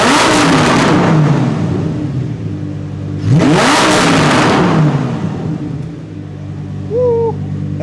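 A Lamborghini Huracan Performante in Corsa race mode revs loudly up close in two sharp bursts, each rising to a raspy roar and falling back to a burbling idle, with a brief whistle-like chirp near the end.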